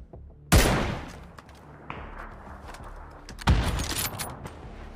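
Sniper rifle fire in a battle royale shooter: two loud, sharp cracks about three seconds apart, each followed by a rolling echoing tail and faint clatter.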